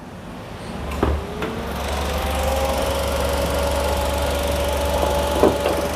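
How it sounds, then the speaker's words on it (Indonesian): Toyota Raize with its 1000 cc 1KR-VET engine running steadily at idle, a low even hum with a faint whine and a couple of light knocks, no voices over it. "jadi ini mesin 1000 cc dengan kode 1KR VET ya"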